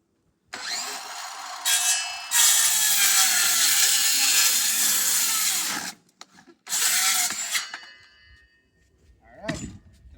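A power saw rips through wooden studs cut for wall framing. There are several loud, whining cuts of a few seconds each, separated by short pauses, and brief handling noise near the end.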